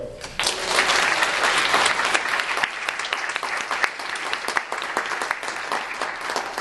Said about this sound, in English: I think we should give a big round of applause to Dale.